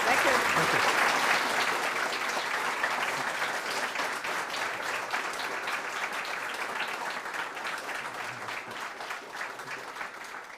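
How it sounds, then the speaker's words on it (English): A large audience applauds continuously, a dense wash of clapping that fades slightly over time. "please join me in giving a big round of applause"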